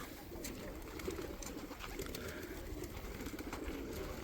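Several pigeons coo softly and continuously nearby, their low murmuring calls overlapping in a steady, muffled chorus.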